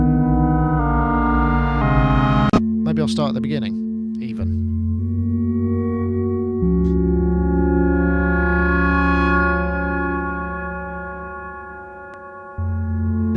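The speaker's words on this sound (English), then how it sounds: "Micromacs played in unison, 9 oscillators set to different pitches, 3 sawtooth waveforms, 6 triangular waveforms" Three MacBeth Micromac synthesizers play in unison, nine oscillators tuned to different pitches, three sawtooth and six triangle waves, sounding as loud, thick sustained drone chords that shift pitch several times, with a brief spoken remark over them.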